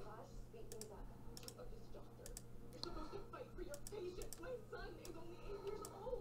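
Computer keyboard keys and mouse clicks during game-engine tutorial work, heard as soft, irregular quick taps scattered under a steady low hum and someone talking.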